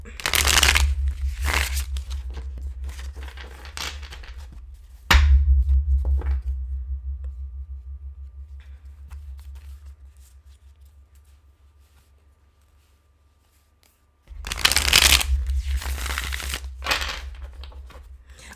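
Tarot cards are riffled and shuffled in two bursts, with a quieter stretch of low hum in between.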